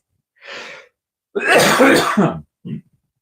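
A short, sharp throat clearing followed by a harsher rasping cough and a small final cough, close and alone in silence.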